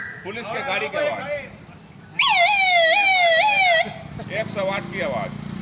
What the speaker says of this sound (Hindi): पुलिस के गाड़ी की आवाज